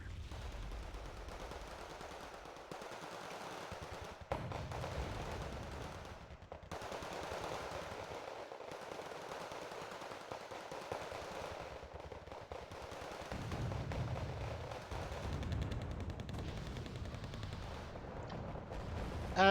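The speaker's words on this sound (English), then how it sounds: "now they're able to start firing on the motor Strelke that Navy Tuna has" Machine-gun fire and scattered gunshots roll through a Wargame: Red Dragon battle, with sustained rattling bursts and occasional heavier thumps, fairly distant and continuous with no talk.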